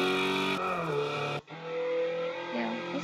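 Video game racing car with a small 1.4 litre turbocharged engine, its steady harmonic engine drone holding loud and continuous, dropping pitch once, then cutting out briefly before resuming at a lower, even tone.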